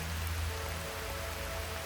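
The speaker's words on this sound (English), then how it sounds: "This rain is really bad and it makes me very uncomfortable" Heavy rain falls in a steady, dense hiss with a low rumble underneath, continuous and even throughout, with no voices.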